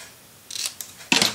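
Paper being cut for a handmade mini album, a few short, close scissor snips and crisp rustles in quick succession after a moment of quiet.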